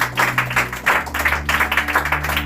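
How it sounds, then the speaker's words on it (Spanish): Church congregation applauding in praise during a Spanish-language sermon: dense, moderately loud clapping in uneven bursts, with steady low hum from music or a sound system underneath. "Dale un fuerte aplauso para el Señor."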